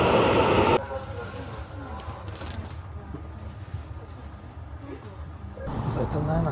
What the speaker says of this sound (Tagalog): So ito na, nakasakay na ako ngayon sa tren.